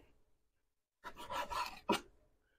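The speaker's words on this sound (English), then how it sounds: "So I want to cut this as thin as possible" A knife slices through cooked gyro meat, cutting it into thin strips: a short burst of rasping, scraping strokes followed by one sharper cut, close and fairly quiet, with no talking.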